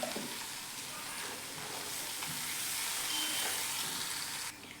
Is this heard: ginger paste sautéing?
yes